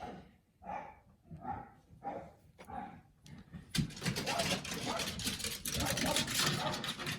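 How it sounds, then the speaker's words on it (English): A dog barks repeatedly indoors, several loud barks in an uneven rhythm, probably at someone at the door, followed by a busier stretch of noisy excitement. "My dog is going crazy. I don't know if you can hear that, but somebody must be at the door."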